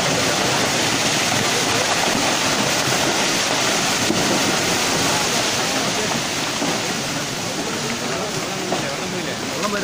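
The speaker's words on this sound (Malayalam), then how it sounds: "വെള്ളം വരുന്നേ ഉള്ളൂ. ഇതാ മേലെ വരുന്നേ ഉള്ളൂ." Floodwater rushes down during heavy monsoon rain and landslides in Kerala in August 2018, a loud, dense, continuous roar filling the whole clip, with voices faintly underneath.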